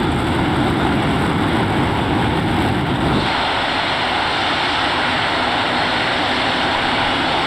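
F-15EX fighter jet engines at full power during takeoff, a loud, steady broadband roar that drops to a lower, slightly thinner rumble partway through, continuous with no talking.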